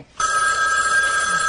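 An old-style telephone bell rings steadily and loudly indoors, a bright continuous electronic trill that starts abruptly and holds without a break.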